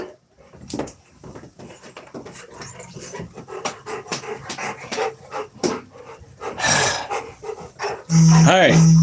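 A dog pants and barks close by in a home, with repeated short bursts and a louder yelp at the end, while a person talks over it.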